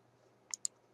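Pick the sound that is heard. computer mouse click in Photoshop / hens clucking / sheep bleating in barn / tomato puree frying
computer mouse click in Photoshop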